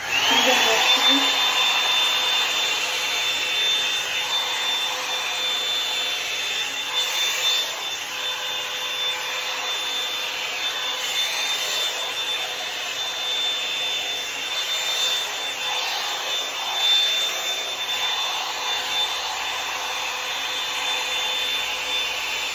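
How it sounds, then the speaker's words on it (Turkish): A hair dryer blowing on hair, a steady, fairly loud whooshing hiss with a high whine that runs unbroken for the whole stretch, close by. "Şimdi ondan sonra da şu fönümle yapıyorum."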